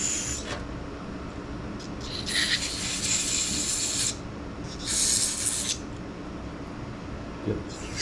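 Carburetor cleaner sprayed into the cavities of a carburetor on a workbench: two long, loud hissing aerosol bursts plus a short opening spritz, over steady low background rumble, with no talking.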